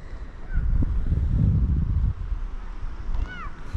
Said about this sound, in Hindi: हवा चल रही है थोड़ी बहुत